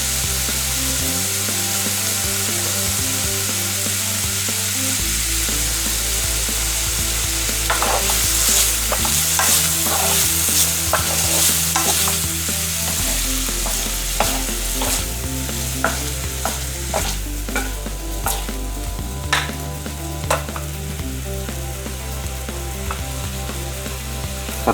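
Fish balls fry and get stirred in a wok for fried noodles, a continuous loud sizzle with scraping spatula strokes and clinks throughout, no voices.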